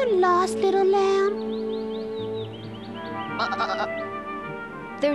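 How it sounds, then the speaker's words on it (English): A little lamb bleats in a high, quavering cry from close by, with a second wavering bleat following a few seconds later over a soft sustained musical background. "Are you lost, little lamb?"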